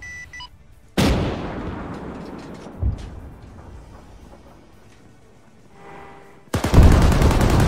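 Heavy gunfire and artillery-like blasts in the Arma 3 combat game, aimed at a stationary tank: a loud boom, a decaying rumble, a second sharper hit, then a dense burst of rapid fire at the end.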